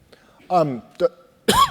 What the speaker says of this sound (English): Excuse me, inopportune cough.